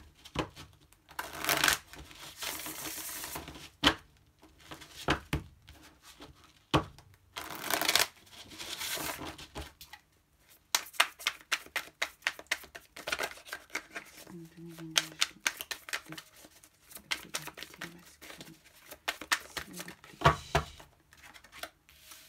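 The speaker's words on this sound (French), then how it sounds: "je vais peut-être mieux mélanger aussi" Tarot cards being shuffled by hand in bursts of crisp riffling and flicking, with pauses between, while someone talks over parts of it.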